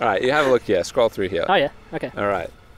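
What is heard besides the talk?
No everyday noises stand out.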